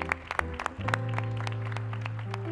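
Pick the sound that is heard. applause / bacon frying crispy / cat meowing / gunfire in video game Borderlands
applause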